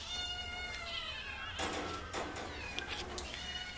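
A kitten meows repeatedly against a steady low background hum at an adoption shelter, the calls fairly close and insistent.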